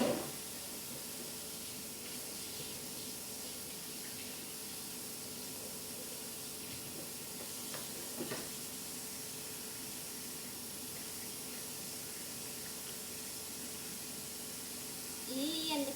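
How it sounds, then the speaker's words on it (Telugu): Water runs steadily from a tap while salted fish pieces are washed, giving a faint, even hiss across the whole stretch with a few small splashes and clinks. "చేప ముక్కలు కట్ చేసేసి ఉప్పు వేసేసుకుని కడిగేసుకుంటున్నానండి"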